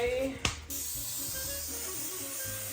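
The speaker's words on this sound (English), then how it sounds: "All right, so you're gonna want to spray." Cooking spray hits a meatloaf pan for keto meatloaf in one short, loud aerosol hiss, and then a person talks over a quiet kitchen background.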